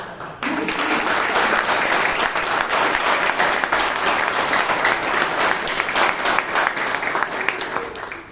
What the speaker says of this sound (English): let the applause continue for all the 3 speakers of today